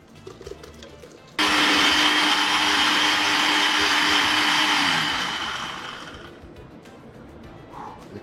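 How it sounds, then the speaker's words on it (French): A kitchen blender purées cooked onions for a caviar-topped egg dish, starting abruptly with a loud, steady high whir that holds for several seconds, then gradually winds down and fades out. "Et on va les mixer."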